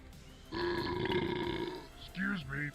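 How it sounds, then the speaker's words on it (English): A long, loud, rumbling burp rolls out for over a second, followed right after by a short spoken exclamation. "Sounds like a Thanksgiving burp to me, dude."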